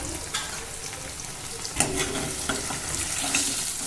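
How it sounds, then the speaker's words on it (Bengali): Cubes of paneer fry in hot oil in a pan, giving a steady sizzle with a few louder crackles and light stirring clatters. No one speaks. "ভালোভাবে নেড়ে চেড়ে পনিরগুলোকেও লাল করে ভেজে নেব"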